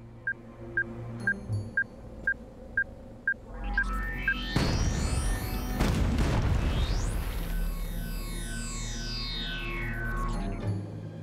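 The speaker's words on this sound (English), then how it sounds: "It do be the flashbang, I suppose." A flashbang goes off in the Worms video game: a sudden loud broadband blast follows a run of short regular beeps, then holds as a long bright roar that slowly fades over several seconds.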